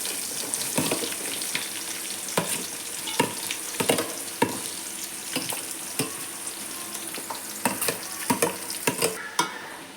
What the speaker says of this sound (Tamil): வெங்காயத்தை நல்லா வதக்கி விடணும்